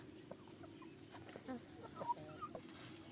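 Chickens cluck softly and intermittently at a distance over a quiet background hum, with a few short, sharper calls.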